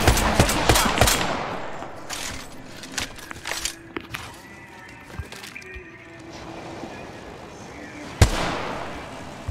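Rapid automatic gunfire in the video game Apex Legends, with bursts of shots and sharp cracks throughout, one loud close shot near the end, under a busy battle mix.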